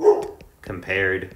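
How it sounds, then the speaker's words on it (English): A pet dog barks in the background, a few sharp yaps near the start, while a person keeps talking over and after it indoors. "Apologize for my dog in the background"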